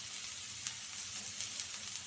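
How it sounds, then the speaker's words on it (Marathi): Bitter gourd fries in oil over a high gas flame, giving a soft, steady sizzle with occasional small crackles and pops. "फास्ट गॅसवर मी 5 ते 10 मिनटं आधी हे छान तेलामध्ये परतायला असंच ठेवणार आहे"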